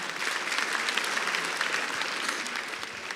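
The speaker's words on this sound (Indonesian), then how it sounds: "Sekali lagi tepuk tangan buat Ridwan Remin" Sustained applause from a large stand-up comedy audience, dense steady clapping that holds loud throughout with only a slight tapering near the end.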